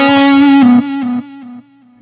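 A single sustained electric guitar note rings out through an amp with distortion, decaying in a few stepped drops before the noise gate cuts it to near silence.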